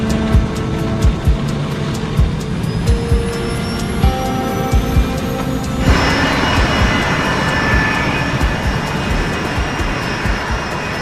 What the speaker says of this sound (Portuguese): A tripulação taxia até a pista.